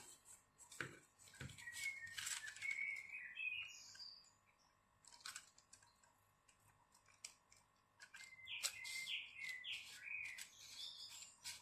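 Small birds chirping and tweeting in bright, quick bursts at moderate distance, with a few soft paper and craft-tool clicks in a quiet indoor setting.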